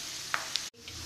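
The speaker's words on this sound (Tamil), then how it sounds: "வெங்காயம் நல்லா ரோஸ்ட் ஆயிடுச்சு." Onions and curry leaves fry in coconut oil for paneer kothu chapathi, giving a steady close sizzle with a couple of sharp stirring clicks and a brief dip in the sound.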